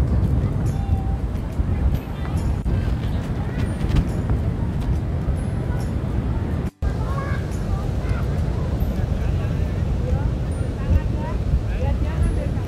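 Strong wind roars steadily across the microphone at Pantai Baru beach in Bantul, Yogyakarta, a loud continuous rumble with brief gusty swells; a person talks over the buffeting throughout.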